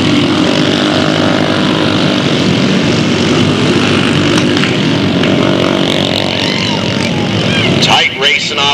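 Race cars at Delta Speedway dirt oval racing tightly off turn four, a continuous loud engine roar across the clip with a commentator talking over it.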